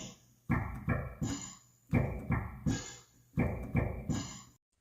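Drum beat built from drawer-opening sound samples with reverb, repeating groups of thumping and clattering hits in a looping rhythm, close and moderately loud, ending abruptly.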